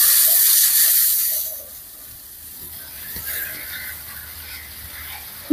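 Water running while makeup is washed off: a loud hissing tap stream for about a second and a half, then quieter splashing and trickling.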